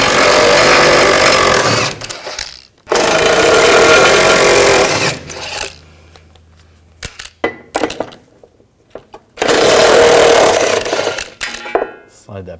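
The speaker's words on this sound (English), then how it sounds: "And take these bolts out. Same 15 millimeter socket." Exhaust bolts being removed with a 15 millimeter socket on a 2013-2019 Ford Escape: loud bursts of a power impact tool rattle in three long runs, separated by quieter clinks and handling noises.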